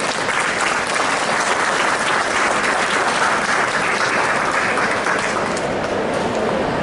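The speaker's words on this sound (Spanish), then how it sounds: "Le damos un aplauso." Audience at a school event applauding: dense, steady clapping from many hands fills the room for several seconds, loud and unbroken, with no voices standing out.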